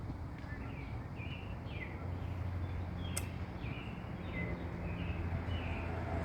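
Birds chirp outdoors in repeated short calls at a regular pace, faint and at a distance, over a low background hum.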